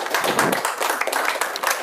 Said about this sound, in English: Another round of applause for Ron, please.